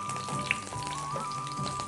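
Green chillies and cumin seeds sizzling in hot oil in an Indian kitchen: a steady, even crackle and hiss with faint pops, no voices.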